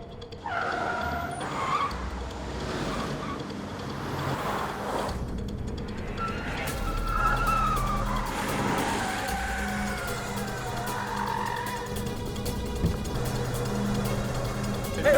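A car skidding and turning in a movie scene, with tyre screech and engine noise amid dense, layered soundtrack effects, moderately loud and continuous.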